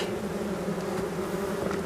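Steady, dense buzzing of many honeybees at hive entrances, from a weakened, Varroa-infested colony with few bees, a low continuous drone with no pauses, moderately loud and close.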